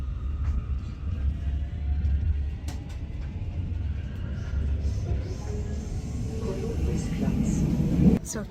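Low, steady rumble of a train at a German station, continuous and fairly loud, building slightly toward the end with a brief rise near the close.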